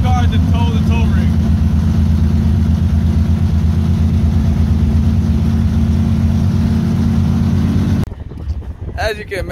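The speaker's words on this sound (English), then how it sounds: "Using the race car to tow the tow rig." A race car engine idles and rumbles loudly and steadily while towing a tow rig at a track, then cuts off abruptly near the end, leaving a quieter background.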